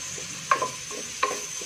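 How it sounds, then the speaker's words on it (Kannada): Vegetables and chopped sour tomato fry with spices in a pan, a low steady sizzle broken by two sharp metallic clinks of a stirring spoon about a second apart. "ಇದು ಫ್ರೈ ಆಗ್ತಾ ಇದೆ, ನೋಡ್ತಾ ಇರ್ಬೋದು"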